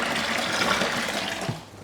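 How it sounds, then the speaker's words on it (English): Water pours steadily into a three-part beer fermenter while brewing a Coopers Golden Crown lager kit, a continuous close gushing splash that tapers off near the end. "And now I'll put in 2 litres of water."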